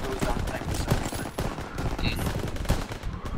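Rapid gunfire in the World War II shooter Call of Duty: WW2, dense overlapping shots in quick succession, loud and close.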